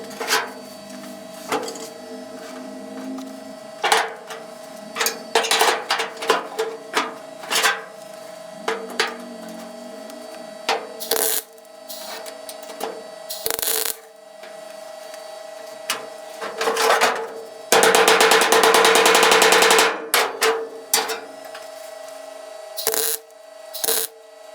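Sheet metal body panel on a rat rod being tack welded, with sharp crackling bursts separated by pauses and one longer sustained buzzing weld near the middle, loud and close with no talking.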